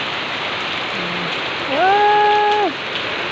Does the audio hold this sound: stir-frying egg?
no